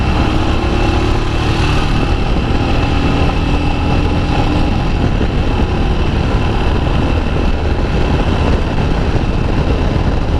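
A Royal Enfield Himalayan motorcycle engine roars steadily at high revs as the bike picks up speed quickly, loud and close with constant wind and road noise and no talking.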